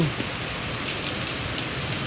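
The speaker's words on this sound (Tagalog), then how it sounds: "Ang lakas ng ulan." Heavy rain pours down in a dense, steady hiss, drumming on a surface without a break.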